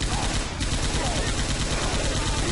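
Sustained rapid gunfire, likely from an M60 machine gun, aimed at a Tank in the video game Left 4 Dead 2; a dense, continuous rattle of shots with a brief voice in the background.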